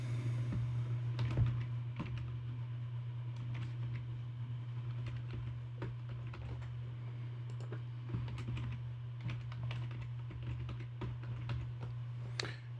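Rapid typing on a computer keyboard while setting a router admin password during setup of a Slate AX1800: quick, close key clicks in a steady stream over a constant low electrical hum.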